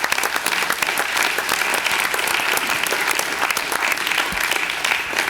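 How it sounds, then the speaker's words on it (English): Strong, dense applause from an audience at a 2006 oath of office ceremony, clapping for the staff in a continuous loud wash of many hands that stays even from start to finish. "maybe you could give a round of applause to our entire staff"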